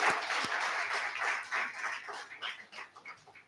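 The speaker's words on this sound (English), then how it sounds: "Let's have a warm welcome and a round of applause for Nisha." Audience applause for a panelist at a food industry panel discussion, a dense steady patter of many hands clapping that fades and thins toward the end.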